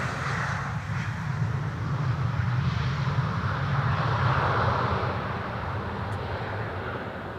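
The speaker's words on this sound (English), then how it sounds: "Bombardier C-Series 300, aka A220. This is flight 108 arriving from Rome." An Airbus A220 (Bombardier C-Series 300) arriving at Schiphol from Rome passes with a steady broad jet rumble and whine, swelling slightly mid-pass and then easing, heard alone at moderate distance.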